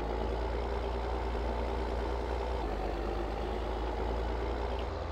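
A Deutz-Fahr Agrotron M-Series tractor driving slowly in first gear in Farming Simulator 22, with a steady, droning diesel engine hum that holds an even loudness throughout.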